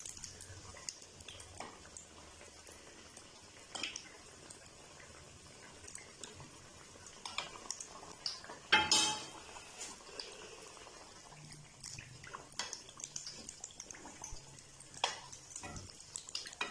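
Potato samosas fry gently in oil over a low flame, a faint and steady bubbling with scattered light clinks and one louder burst partway through.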